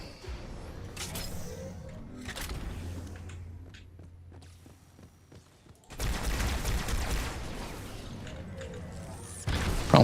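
Gunfire in a Halo video game, with scattered shots and bursts that turn into a dense, loud barrage of rapid firing and crashing impacts near the end.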